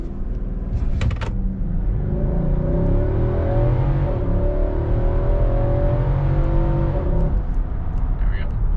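A 2021 Nissan Armada launching from a stop, engine noise rising steadily in pitch as it accelerates, heard from inside the cabin, with a brief click early on.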